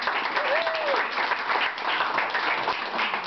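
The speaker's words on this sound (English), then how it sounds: "give Jeanette a clap" Dense applause from a crowd at a wall-signing gathering in Avondale, Arizona, steady continuous clapping throughout, with a brief vocal whoop near the start.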